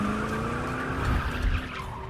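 Cars pull away in a hurry with tires squealing and skidding, engines revving loudly in a brief, close burst with no talking.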